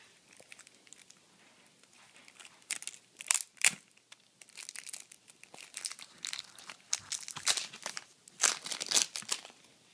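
Magic: The Gathering cards are shuffled close by in quick, crisp bursts of riffling and pattering that come in irregular clusters, with no one speaking.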